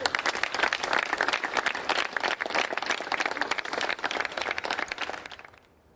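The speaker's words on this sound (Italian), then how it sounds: "un applauso ha accompagnato Marian" Sustained applause from a crowd at a funeral as white heart-shaped balloons are released, steady dense clapping lasting several seconds before fading out at the end.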